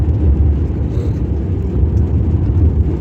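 A vehicle climbs a hill road at night, its engine a continuous low, loud rumble heard close with no talking.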